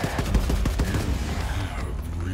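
Rapid bursts of incendiary-round gunfire rattle in Wolfenstein II: The New Colossus, a quick run of loud evenly spaced shots in the first second that trail off into lingering echo and background rumble.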